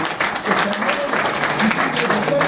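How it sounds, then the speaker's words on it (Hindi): Audience applause at an indoor product awareness session, a short burst of steady clapping that blends with background voices. "तालियां मारो लेडीज पे।"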